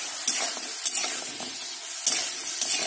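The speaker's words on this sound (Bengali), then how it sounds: "দিয়ে আমি এটাকে সয়া সসের সাথে সাথে কিন্তু একটু কষিয়ে নেবো এক মিনিট মতো" Fried potatoes, bori and beans sizzle in a pan with soy sauce while being stirred, a steady loud hiss broken by quick scraping strokes of the spatula, with no talking.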